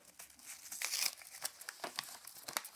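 The paper wrapper of a Tony's Chocolonely dark almond sea salt chocolate bar is peeled and torn open close up. Irregular crinkles and sharp tearing rustles come in bursts, with no talking.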